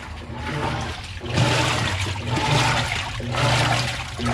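A Whirlpool top-load washing machine agitates its load, a continuous churning slosh of water that swells and ebbs in rhythmic surges, close and fairly loud with no talk over it.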